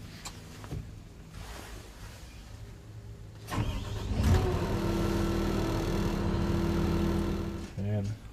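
A John Deere 470G crawler excavator's diesel engine cranks and catches about midway, then settles into a loud, steady running rumble, with a voice speaking over the scene.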